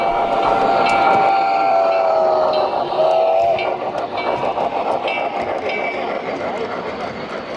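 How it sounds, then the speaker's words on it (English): A Lionel Legacy Western Pacific 26 model locomotive runs at a train show, with a steady rolling rumble and a sustained whistle-like tone that fades midway, with voices chattering around it throughout. "So this is supposed to be Lionel Legacy Western Pacific 26"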